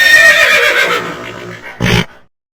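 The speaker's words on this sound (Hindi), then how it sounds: "राजा घोड़ा तेजी से दौड़ा और गुंडों के बीच में आ गया।" A cartoon horse lets out a loud, drawn-out whinny, followed by a short, heavy burst like hooves striking, then silence.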